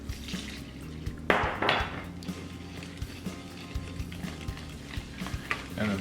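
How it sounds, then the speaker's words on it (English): Water being poured into a bowl of batter mixture for orange chicken, a soft pouring wash with scattered small clinks and knocks of kitchenware, close and fairly quiet with no talk. "Then we're gonna add our water here,"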